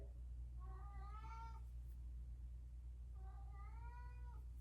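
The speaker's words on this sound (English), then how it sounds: "our cats are in heat right now." Two drawn-out, wavering yowls from cats in heat rise and fall against a low steady hum, faint and separated by a short pause.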